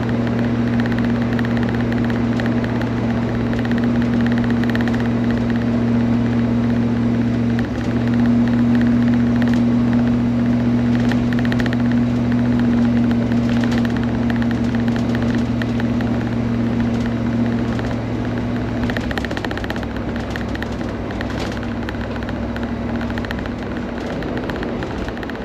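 A Range Rover Classic overland rig drives along, its engine a steady low droning hum with a faint whine over road noise. Toward the end the tone drops and shifts as the engine falters and cuts out.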